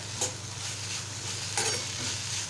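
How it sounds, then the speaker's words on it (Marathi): A Malvani dry shrimp vegetable dish with fresh coriander stir-fried in a pan, a steady soft sizzle with two brief scraping stirs of a spoon, close and without talk. "आता मी ह्याच्यामध्ये कोथिंबीर घालून परतून घेणार आहे"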